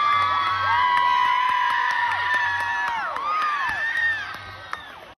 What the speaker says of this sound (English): Everyone was cheering and screaming